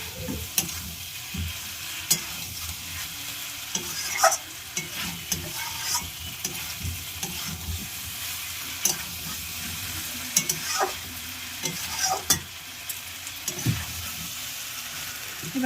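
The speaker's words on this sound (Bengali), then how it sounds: "প্রায় কষানো হয়ে গেছে।" Jackfruit and prawn curry is stirred and sautéed in a pan, a steady close sizzle broken by frequent scrapes and knocks of the spoon against the pan.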